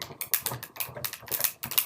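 A Sizzix die machine presses paper, silicone rubber and an impressions pad through a cutting die to emboss it, giving a close run of quick, sharp clicks and crunches in an uneven rhythm, with no one talking.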